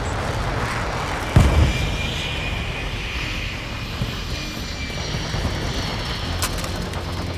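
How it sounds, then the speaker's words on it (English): Helicopter or aircraft engine roar in a Call of Duty match, a loud continuous wash of rotor and engine noise with a brief thump near the start. "Our chopper gunner is inbound hot."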